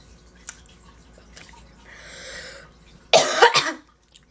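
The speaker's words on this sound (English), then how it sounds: "Why do I keep coughing from that?" A short burst of coughing from a person getting ready for a concert, two or three harsh, close coughs near the end after quieter room noise.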